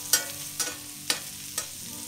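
Onions frying in a pan, turning translucent with some browning, are stirred in four evenly spaced scraping strokes over a steady close sizzle.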